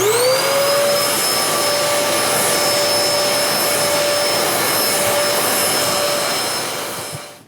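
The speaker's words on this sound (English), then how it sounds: "If you just vacuum them, keep them clean, they'll last for many years to come." A vacuum cleaner runs on the filters of a home HRV ventilation system, a loud steady whine that spins up at the start and winds down at the end, with no talking.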